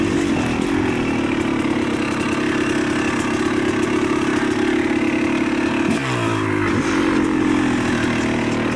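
Yamaha YZ300 two-stroke dirt bike with electric start, engine held at a steady high buzzing rev while riding, then a quick shift with dropping and rising pitch around the six-second mark, loud and close.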